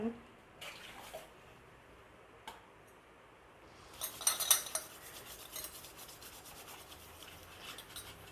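Clinking dishes and scrubbing of burnt-on pots in a sink, sparse at first, then busier clattering of pots and cutlery over running water.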